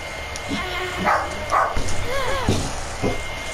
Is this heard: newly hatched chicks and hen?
no